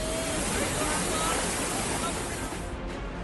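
Floodwater rushes through Kullu, Himachal Pradesh, during severe flooding: a steady, loud, broadband roar of churning water that fills the whole stretch without pause.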